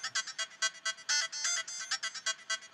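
A GarageBand synth lead in a reedy setting plays a fast, bright, ringing sequence of short notes with occasional longer held tones, moderately quiet with nothing else around it.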